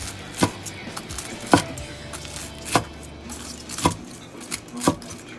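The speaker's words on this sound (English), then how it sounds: "we're going to go ahead and just cut it" A knife slices through crisp fried chicken katsu on a cutting board, five sharp crunching chops spaced about a second apart, close and clear with no talking.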